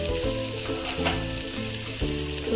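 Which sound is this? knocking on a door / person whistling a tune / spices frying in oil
spices frying in oil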